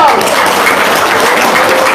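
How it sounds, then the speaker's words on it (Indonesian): An audience applauds during a talk, giving a loud, continuous burst of clapping that holds evenly throughout with no pause. "Tepuk tangan dong."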